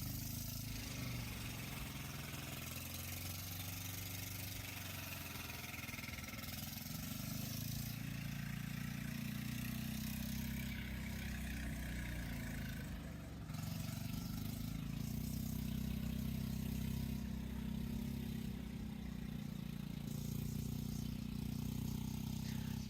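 Small 10 HP diesel engine in a tractor runs steadily, a continuous low chugging drone that shifts slightly in pitch as it works, close and alone without talk.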